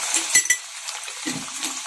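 A utensil scrapes and clinks against a pan while frying eggs are stirred, with a few sharp knocks early and a faint sizzle between strokes.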